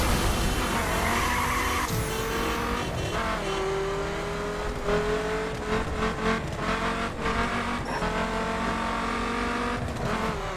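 Tires squeal and skid on a racing car in The Crew video game, long screeching glides over a revving engine, with repeated squeals and engine pitch sweeps throughout and no voices.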